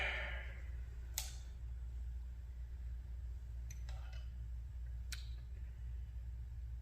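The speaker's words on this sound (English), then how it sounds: "That's the sound of an Allen tip breaking." A sharp, brief snap from an Allen wrench tip breaking during LT1 valvetrain work, with a few small metallic ticks before and after, all over a steady low shop hum.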